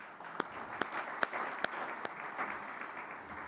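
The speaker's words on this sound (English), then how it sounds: "Let's give her another round of applause." Audience applause at a Namibia-EU business forum, a few sharp distinct claps standing out over a soft, steady patter from the room, moderately distant and fairly quiet.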